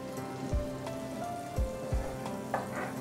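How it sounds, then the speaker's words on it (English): A small amount of butter heats in a pan for curried beans pasta, giving a soft, quiet sizzle with scattered pops and a few low knocks, no talking. "First, we'll heat the butter."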